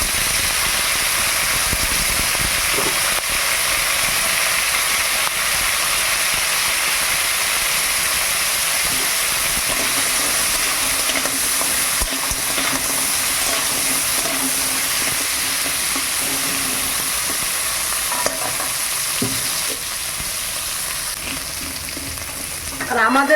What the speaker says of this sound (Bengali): তেল গরম হয়ে গেছে, এবার কাঁকড়াটা ভেজে নেব।